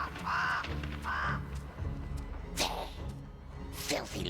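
Crows caw in the Gollum video game, with two harsh calls early and a few sharper squawks and swooshes later, mixed with a faint voice and game ambience.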